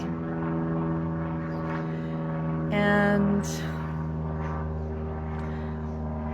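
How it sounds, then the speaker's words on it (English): An airplane passes overhead as a steady droning hum with layered tones, rising briefly louder midway, while a single spoken word cuts through. "Hello, airplane."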